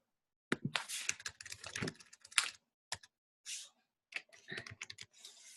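Typing on a computer keyboard to enter a search on Pinterest, close, quick bursts of clicking keystrokes with short pauses between words, fairly quiet.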